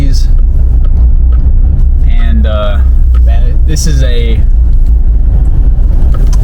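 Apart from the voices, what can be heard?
lifted GMC 2500 truck engine on Cognito lift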